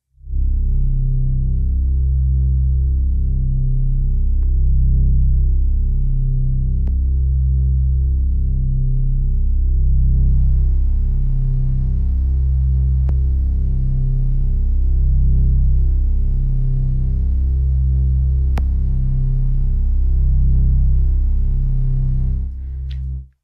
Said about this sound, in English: you could really hear the difference as I was changing the filter slope